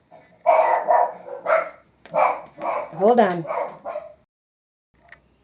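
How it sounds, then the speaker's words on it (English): Dogs bark in short bursts at close range, mixed in with a person talking over them, then the room falls quiet near the end. "My dogs barked when I said, speak your truth."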